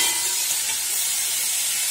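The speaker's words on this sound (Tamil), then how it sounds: "இது கொஞ்சம் நேரம் அப்படியே ஃப்ரை ஆகட்டும்" Cauliflower frying in oil in a pan, a steady close hiss and sizzle that stays even throughout, with no talk.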